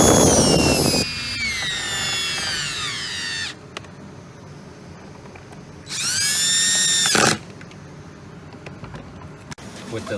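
A power drill drives screws into a 2002–2005 Mini Cooper door during window regulator replacement, whirring loudly in two long bursts with rising and falling pitch, separated by quieter handling sounds.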